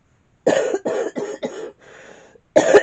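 A person with a cold coughs in a close, loud burst of about four hacking coughs, followed by a soft wheezy breath and another harsh cough at the end.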